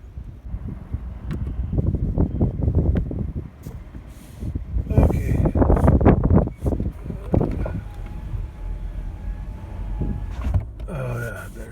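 Wind buffets a microphone outdoors on a rural property in strong, uneven gusts that rise and fall close up, with someone speaking at times over the rumble.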